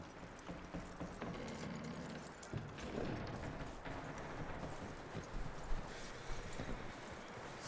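Horse hooves clip-clopping in the video game Red Dead Redemption 2, a steady close rhythm of hoof strikes over ambient outdoor noise, with no talk.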